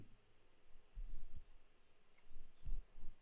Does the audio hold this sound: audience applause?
no